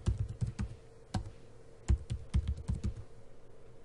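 Someone types a passphrase on a computer keyboard, a quick irregular run of close, crisp key clicks over a quiet room with no talking.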